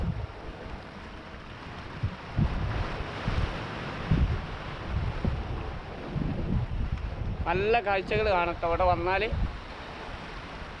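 Wind and water along a boat-lined waterfront near a fish market, a low gusty rumble buffeting the microphone with soft splashing surges throughout, while someone speaks briefly near the end.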